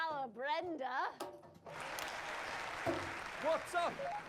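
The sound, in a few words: applause in video game Not for Broadcast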